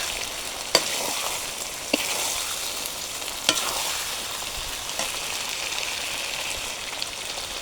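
Chicken kosha sizzles and fries steadily in oil at close range, with a few sharp stirring scrapes at intervals over the continuous crackle.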